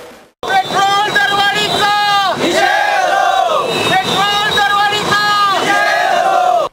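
Loud crowd chanting and shouting in a public protest at a petrol pump, with dhol-tasha drums beating steadily underneath the massed voices throughout.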